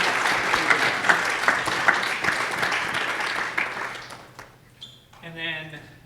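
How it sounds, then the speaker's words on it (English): An audience at a talk on cloud cost management claps, a dense burst of applause that fades after about four seconds, followed by a voice. "let's give them a big round of applause to start with."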